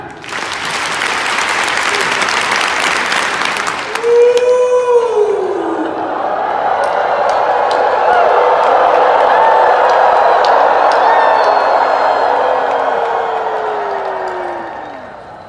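An indoor audience at a large live seminar event in Salt Lake City claps and cheers together in a dense, sustained roar of applause, with whoops and a rising tonal sound sweeping through it.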